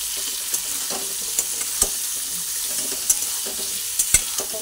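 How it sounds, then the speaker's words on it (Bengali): Papaya fries in a pan with turmeric and Kashmiri chilli powder, giving a steady sizzle broken by sharp scrapes and taps of a spatula stirring at irregular intervals. "হলুদ আর কাশ্মীরি লঙ্কা গুঁড়ো দুটো দিয়ে এরপর আমি পেঁপেটাকে ভেজে নিচ্ছি।"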